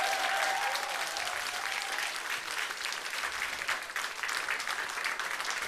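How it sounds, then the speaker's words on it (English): A crowd applauds steadily throughout, dense clapping at a full, even level with a brief faint whistle near the start. "perhaps one more round of applause for that"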